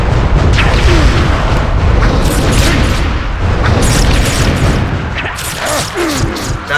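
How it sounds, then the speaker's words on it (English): Loud, continuous barrage of booming blasts and rapid turret fire from X-Men Origins: Wolverine on PS2, dense and rumbling throughout with sharp explosive bursts layered on top. "Motherfucking turrets, I hate them."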